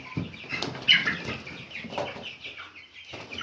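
Ross 308 broiler chickens flap their wings and cluck softly in a close, busy coop, a fluttering rustle with scattered bird calls throughout.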